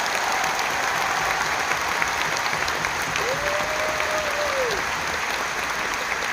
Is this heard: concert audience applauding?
yes